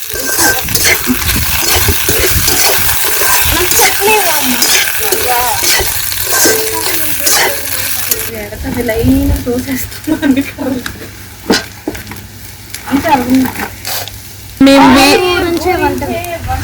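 A spoon stirs and mixes an egg and dry fish curry in a pan over a wood-fired stove, with sizzling and scraping strokes running beneath someone talking throughout.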